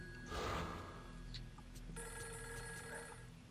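A telephone ringing in the horror video game Fatal Frame 3, with an electronic ring sounding steadily over a low ambient drone and fairly quiet, with no talking.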